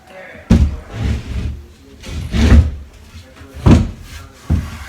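A newly hung laundry room cabinet, fixed with wood screws, is opened and handled, giving four distinct wooden thumps and knocks spaced about a second apart, fairly close and loud, with quieter rustling between them.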